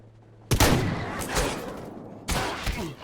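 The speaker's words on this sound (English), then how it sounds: "Oh my god, my fucking shotgun jammed." Gunfire in the Stalker video game: loud, close shots in two bursts, the first crashing out and lingering before a second volley near the end, with no talking.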